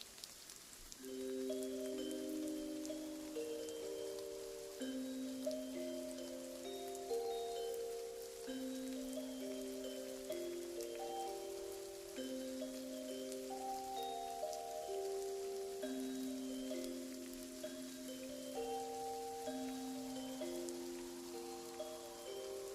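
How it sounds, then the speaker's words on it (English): Steady rain falls in a video game, a soft even hiss running throughout beneath a gentle melodic tune of sustained notes. "And the rain makes it really hard."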